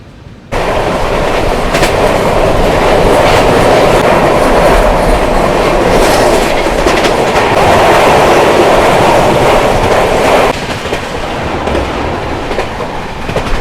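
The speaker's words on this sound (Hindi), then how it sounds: "इस वक्त हम कोटशिला जंक्शन रेलवे स्टेशन को क्रॉस कर रहे हैं" A New Delhi–Ranchi Rajdhani Express train runs on rails past Kotshila Junction station in West Bengal, giving a loud, continuous rumble with steady clickety-clack of wheels on the track. No voices are heard.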